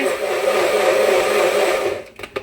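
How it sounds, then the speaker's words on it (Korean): A kitchen blender, apparently broken, running with a loud, steady whirring roar for about two seconds before cutting out into a few short clunks. "믹서기가 고장이 났나 봐요"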